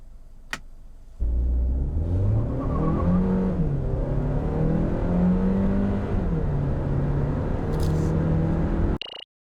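Kia Sportage 1.6T turbo engine, a front-wheel-drive model, pulling hard through an acceleration test, a loud droning roar that climbs in pitch and dips at gear shifts, heard from inside the cabin before cutting off abruptly.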